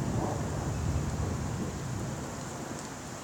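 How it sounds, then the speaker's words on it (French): A violent autumn thunderstorm over Carpentras in Provence, with steady rain hiss and a low, rolling rumble of distant thunder that swells early and slowly fades. "l'orage est en train de se réactiver qui arrive par le sud"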